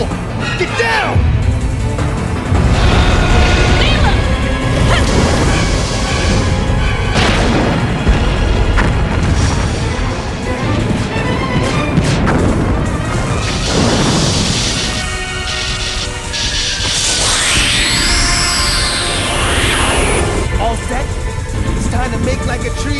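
An explosion erupts in Dino Crisis, a heavy booming blast with rolling rumble and crashing debris lasting many seconds, with voices and music layered over it and a rising whine near the end.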